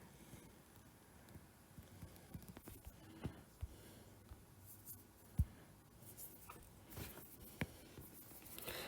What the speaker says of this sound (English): So I will start by sketching the source.